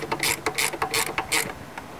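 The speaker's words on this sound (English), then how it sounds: "When you get 10 millimeters, you tighten it up." A ratchet wrench tightens the bolts on the timing belt tensioner of a Mitsubishi 3000GT, with quick close bursts of clicking in an uneven rhythm and short pauses between strokes.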